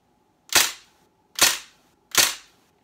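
Three sharp, close shots from an Umarex MP40 Legends CO2 airgun crack out about a second apart, each a bright snap with a quick decay, in otherwise quiet surroundings.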